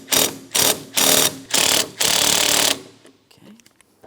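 A ratchet loosens a 15mm radiator fan mounting bolt on a 2004-2008 Pontiac Grand Prix in five quick, loud bursts of rapid clicking. Softer metallic taps and handling noises follow.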